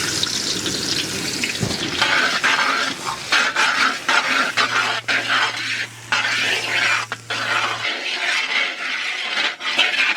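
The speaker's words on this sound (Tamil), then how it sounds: "பொடியா நறுக்குன 1 கிலோ வெங்காயம் சேர்த்துக்கலாம்." Oil sizzles loudly as a kilogram of finely chopped onions fries in a large pan, with clattering stirring and scraping throughout, close and busy, no voices.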